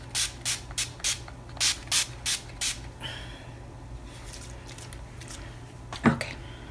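Urban Decay All Nighter setting spray mists onto a face in eight quick, close bursts, some in pairs, followed by quieter rustling and a faint later hiss.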